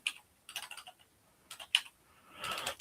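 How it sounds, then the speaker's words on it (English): Quick bursts of key clicks from a computer keyboard come in short irregular clusters, close and crisp, ending in a brief rush of noise, with no voices. "I am typing like crap."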